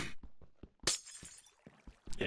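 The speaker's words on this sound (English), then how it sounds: "All I got to do is break the glass at the bottom." Glass blocks shatter in Minecraft during work on a slime farm, a run of quick, crisp breaking crunches in close succession, with one louder burst partway through.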